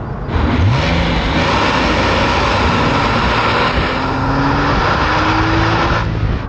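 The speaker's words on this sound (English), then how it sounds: "flat 6, naturally aspirated, like, sounds amazing" A loud, close naturally aspirated flat-six engine in a Porsche 986 Boxster S revs smoothly upward in a rising howl, held steady over constant road noise throughout.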